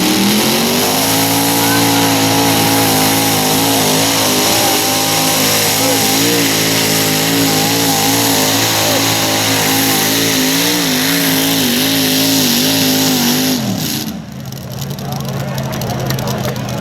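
A helicopter-turbine pulling tractor, V2 Reloaded, screams at full power during a tractor pulling event in Fiume Veneto, a loud, sustained, rising whine with wavering tones that cuts off and drops away near the end, while an announcer talks over it.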